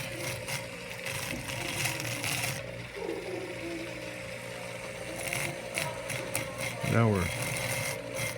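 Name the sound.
grinding rusted metal of Colt Single Action revolver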